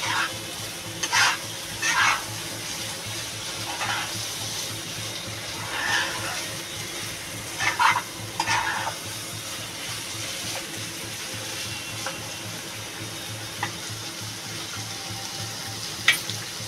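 Egg-coated chicken pieces fry in a pan with a steady sizzle, broken by several brief louder bursts as the pieces are stirred and turned; no one speaks.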